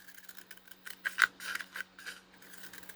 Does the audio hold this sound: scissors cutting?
yes